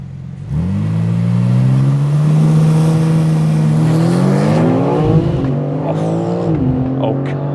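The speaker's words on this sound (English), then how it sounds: "that titanium exhaust makes this thing sound brilliant" A BMW M4 CS with a titanium exhaust revs hard and accelerates, its engine note climbing through rising pitch sweeps, dipping briefly at a gear change and then pulling again, loud and close throughout.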